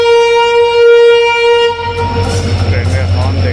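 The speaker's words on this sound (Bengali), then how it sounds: "ট্রেনের হর্ন দেখতে পাচ্ছি" An Indian Railways express arriving at Howrah station gives a long, loud horn blast that cuts off, followed by the rumble and rattling clatter of the train rolling along the platform.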